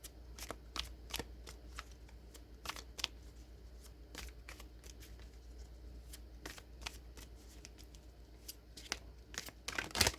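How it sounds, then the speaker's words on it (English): Oracle cards being shuffled by hand, a soft steady papery rustle broken by many quick sharp flicks and riffles at irregular intervals, close and fairly quiet with no talking. "Let's pull the last identifier card, clarifying card for the feather tip in the West Wing"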